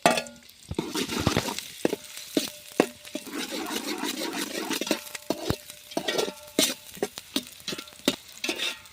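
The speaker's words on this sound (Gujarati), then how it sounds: "ડુંગળી નાખીને આપણે થોડી વાર એને હલાવશું" Onions being stirred in hot oil for milky aloo sev shaak, with a steady close sizzle and repeated scraping and clinking strokes of a spoon against the pan throughout.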